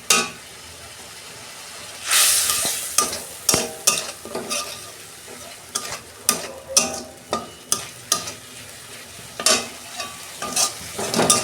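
Cumin and turmeric spice paste with a little water sizzling in a pan, with a loud burst of hissing followed by a steady run of sharp, rhythmic scraping stirs close by.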